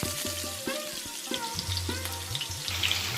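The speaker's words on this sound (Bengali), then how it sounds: "আমি যে আলুগুলো কেটে রেখেছিলাম ডুমো করে সেটা একটা একটা করে আমি তেলের মধ্যে দিয়ে দিলাম" Diced potatoes for khichuri go into hot oil and sizzle steadily, with scraping and clinking of a spatula stirring them; no one speaks.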